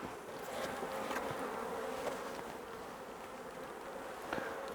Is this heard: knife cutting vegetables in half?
no